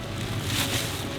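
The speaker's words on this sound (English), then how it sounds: "I think I hear my boat." A boat approaching through the Guyana jungle, a low, steady motor rumble under broad wind-like noise, brief and continuous.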